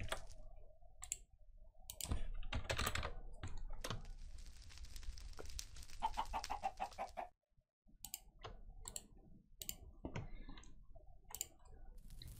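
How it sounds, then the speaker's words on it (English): Computer keyboard typing during a Minecraft modded session, a burst of rapid clicking keystrokes in the middle, with scattered single key clicks before and after. "Me and typing doesn't always go well."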